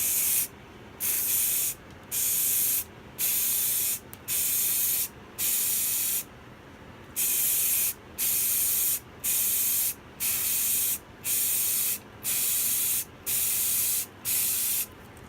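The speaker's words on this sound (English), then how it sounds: "So I'm going to do a thin coat of the glow-in-the-dark paint." Short bursts of spray paint lay down a thin coat of glow-in-the-dark paint on a shed stereo build, a dozen or so hissing pulses of about a second each with brief gaps, close and steady, no talking.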